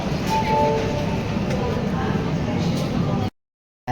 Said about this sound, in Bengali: এই বর্ধমান স্টেশনের 2 নম্বর প্ল্যাটফর্মে আমাদের ট্রেন এসে দাঁড়িয়েছে